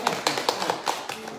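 Audience at a Buddhist dharma talk claps hands in scattered sharp bursts, moderately close, with no one speaking over it.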